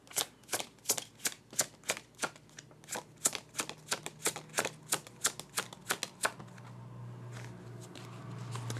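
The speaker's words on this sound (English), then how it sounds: "let's get some more cards here" Tarot cards are riffled and shuffled in a quick run of about twenty crisp, evenly spaced slaps, close and clear, before settling into a soft low hum.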